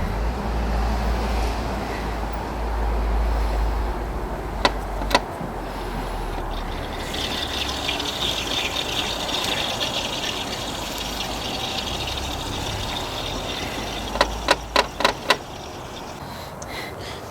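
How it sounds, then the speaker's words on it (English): Refrigerant gas hisses into the air conditioning of a Vauxhall Corsa, a soft continuous rushing flow with a low hum at first, punctuated by a few sharp clicks midway and near the end. "We'll start the gas flowing."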